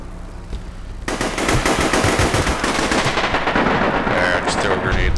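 Heavy weapon fire in the online game APB begins abruptly after a quieter moment, then keeps up as a dense, loud barrage of rapid shots and blasts with a voice partly heard beneath it.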